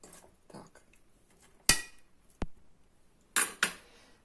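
Salad being mixed in a bowl with utensils, heard as a few sharp, close clinks and scrapes spaced out against quiet.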